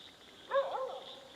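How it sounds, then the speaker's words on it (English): A dog at night in the woods during a solo camping trip gives a short, distant bark or yelp, one brief burst over a steady background hiss. "And what you hear is a dog"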